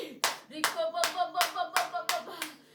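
Rhythmic congregation hand clapping at a church service, about eight evenly spaced claps in quick succession, close and moderately loud.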